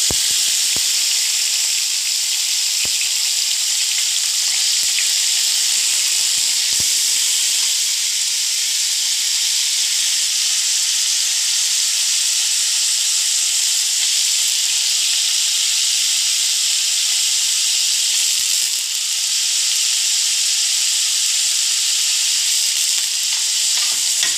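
Onions go into browned garlic frying in hot oil, giving a bright, continuous sizzle and hiss, with a few sharp clatters near the start and occasional stirring noises over about 24 seconds, close by with no voices.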